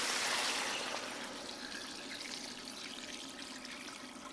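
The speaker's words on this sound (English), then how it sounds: "Now we add some fresh water." Fresh water poured into a pot with peppercorns while preparing Thanksgiving turkey, a soft close splashing pour that tapers into a gentle trickle.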